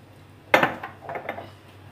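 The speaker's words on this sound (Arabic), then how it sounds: "اقلب كل ده مع بعضه بقى كده عشان اتاكد ان البصل وصل للحمه" A spoon or spatula scrapes and clinks in a pan while minced meat with onions and paprika is stirred, one sharp knock followed by a few softer scraping strokes, close and brief.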